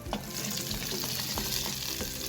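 Crushed meat frying in a pot for spaghetti sauce, a steady close sizzle with stirring scrapes throughout, no talking.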